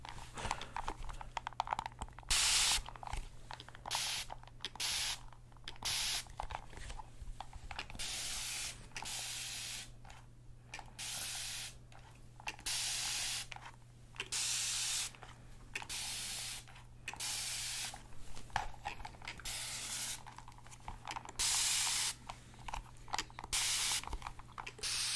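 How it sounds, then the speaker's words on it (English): Spray bottle misting in rapid close bursts for ASMR, dozens of quick hissing pumps in uneven clusters over a low steady hum, with no talk. "this is kind of like a longer lasting spray"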